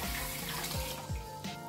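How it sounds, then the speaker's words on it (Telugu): Water runs in a steady splashing stream as it is poured into rice for an Andhra veg biryani, close and continuous, with no voices. "6 కప్స్ ఆఫ్ వాటర్ని నేను దీంట్లో యాడ్ చేస్తాను"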